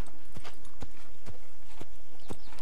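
Horse hooves clip-clopping during a ride in the video game Assassin's Creed, a steady series of sharp, fairly close hoof strikes at a walking-to-trotting pace with no talk over them.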